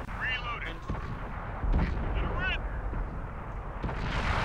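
Tank cannon firing in a video game, a heavy booming blast followed by rumbling, with someone talking excitedly throughout.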